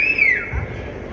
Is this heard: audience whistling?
yes